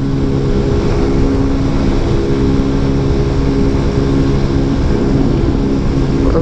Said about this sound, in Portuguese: as motos tá andando igualzinho